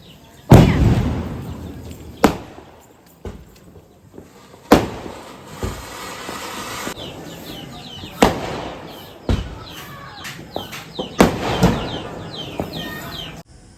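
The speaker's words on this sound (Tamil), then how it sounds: "நைட்டு வெடி வெடிச்சிட்டு இருந்த டைமில் எடுத்தோம்" Diwali firecrackers burst repeatedly at night at irregular intervals, some loud and close, others fainter, each crack followed by a short crackling tail.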